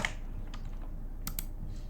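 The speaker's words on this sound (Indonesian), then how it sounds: "berarti kita harus ngetik menu lagi nih di nomor 2" Typing on a computer keyboard: a few scattered, light key clicks at an irregular pace, faint and close, with no one speaking.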